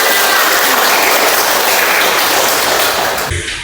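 Children in an Indonesian classroom clap together in a dense, steady burst that fills the room, then stop abruptly near the end.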